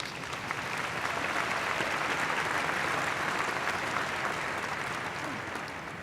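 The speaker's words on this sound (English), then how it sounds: "I think we should applaud that." Steady applause from a large commencement audience celebrating first-generation college graduates, a dense, even wash of many hands clapping at moderate distance for about six seconds with no voices.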